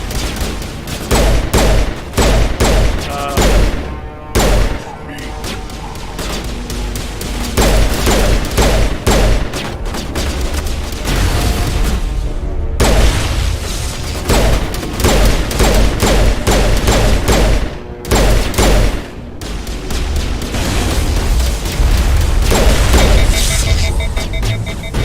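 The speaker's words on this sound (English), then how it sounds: "I think I'll shoot that." Mass Effect Legendary Edition combat with pistol fire: dense, loud, continuous volleys of shots and booms with almost no pauses, a few brief gaps breaking the barrage.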